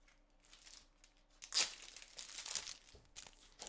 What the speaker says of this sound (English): in the fresh pack of sleeves